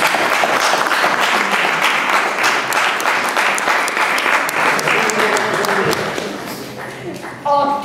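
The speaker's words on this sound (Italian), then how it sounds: "facciamo un applauso ad Andrea" An audience applauds for Andrea at a rock-themed exhibition event, a steady, dense round of clapping that holds loud throughout, with voices murmuring underneath.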